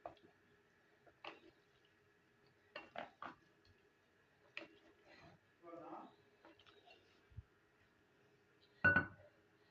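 Beef boti pieces being mixed with marinade and cornflour in a bowl, giving scattered clinks and scrapes of a utensil against the dish, with quiet pauses between the strokes.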